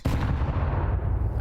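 A grenade blast in Counter-Strike 2 during a professional match, a loud low-heavy boom that rumbles and sustains through the whole moment with no talk over it.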